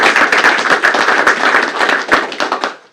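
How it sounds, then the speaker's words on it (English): Close, crisp round of applause from a school board meeting audience honouring students, individual hand claps distinct and sharp, dense and steady before tapering off at the end. "Let's give these students a round of applause."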